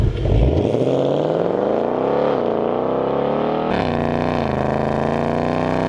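A Ford Mustang Mach-E GT electric sports car emits a loud synthetic engine-like drone that rises steadily in pitch, dips, then climbs again as it accelerates, heard up close with no talk.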